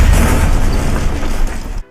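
A loud, booming explosion in the Robocraft video game, a heavy low rumble that sustains for nearly two seconds before cutting off abruptly.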